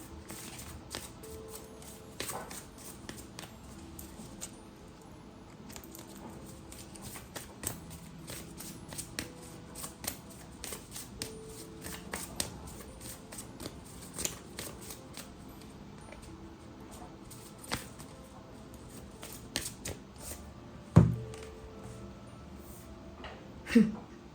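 A deck of oracle cards is shuffled repeatedly at close range, giving soft riffling and flicking bursts with occasional sharper taps over a quiet room.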